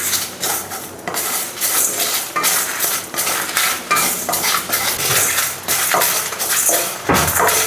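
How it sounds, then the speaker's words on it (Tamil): A metal spoon scrapes and clinks against a pan as urad dal and dried red chillies are stirred and roasted, busy rhythmic scraping and clattering strokes, close and loud, with a brief pause near the end. "பருப்பு வறுவட்டு வரப்போ மிளகாய் இங்கேருந்து வறுவிட்டு வருதுங்க."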